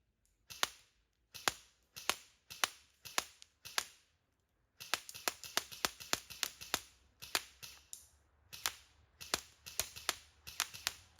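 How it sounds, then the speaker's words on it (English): A Specna Arms SA-C07 airsoft rifle fires BBs at a target in quick clusters of sharp, snappy shots, about three to five per burst, crisp and close with brief pauses between groups. "the rest of the magazine I'm just gonna mag dump into the center of the target"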